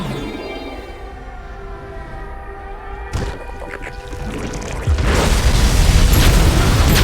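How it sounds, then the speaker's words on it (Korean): A truck explodes in a StarCraft II co-op mission, Cradle of Death: a sudden heavy boom breaks over a humming, tonal game backdrop and settles into a loud sustained roar. "트럭이 목표 지점에 도착했습니다. 대피하십시오. 곧 폭발합니다."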